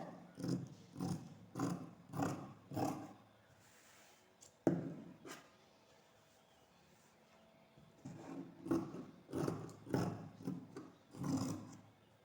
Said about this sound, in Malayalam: ഈ ലൈനിൽ കൂടെയാണ് നമ്മൾ കട്ട് ചെയ്തെടുക്കുന്നത്